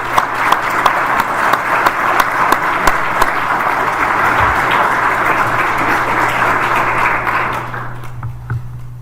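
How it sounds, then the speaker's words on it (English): A large audience applauds award winners at a Knight ADRC state-of-the-center event in St. Louis, a loud, dense wash of clapping holding steady for several seconds before thinning out at the end over a low steady hum. "Let's give all of them a round of applause."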